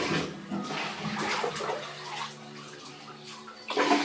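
Water gushes and churns steadily as an overfilled tub or basin overflows, a continuous loud rush with a brief stronger surge at the end.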